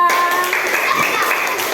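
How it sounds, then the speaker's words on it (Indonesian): A classroom full of students claps for a group named the eagles. The applause is loud and close, a dense patter of many hands lasting about two seconds. A voice may also be audible under the clapping. "tepuk tangan untuk kelompok elang"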